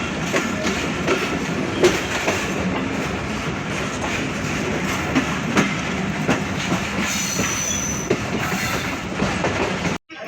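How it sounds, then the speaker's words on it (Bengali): The Barendra Express, an intercity train bound for Rajshahi, pulls out of Natore railway station, heard from on board as a loud continuous rumble with rhythmic wheel clatter, clunks and a faint squeal. "রাজশাহী অভিমুখী আন্তনগর 732 ডাউন বরেন্দ্র এক্সপ্রেস ট্রেনটি কাঁচাগোলা শহর বনলতার সেন নাটোর রেলওয়ে স্টেশন ছেড়ে যাচ্ছে।"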